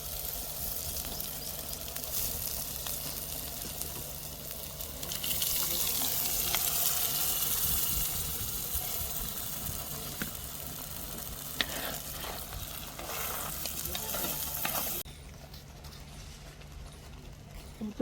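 Dal poured into a sizzling spice tempering, a steady hiss and bubbling that swells as liquid goes in, with stirring, then drops to a quieter simmer near the end.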